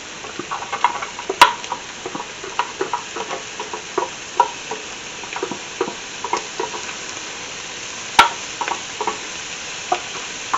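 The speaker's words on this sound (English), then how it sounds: "Now it says to add the onions and cook them for 3 minutes." Onions frying with cooked ground beef in a pan, a steady sizzle with frequent scraping and stirring knocks, close and continuous without talk.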